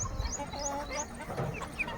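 Free-range country chickens cluck softly and intermittently at close range on a farm manure pile, a few short calls scattered over quiet background rustle.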